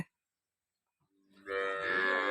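A cow lets out a single long, loud moo close by after a near-silent pause, as cattle are being loaded into a vehicle bound for Porbandar.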